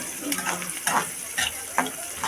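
Onion and cumin brown in a pan for a Marathi-style tomato chutney, heard as a low steady sizzle broken by a few close scraping stirs of a spoon, with no clear voice.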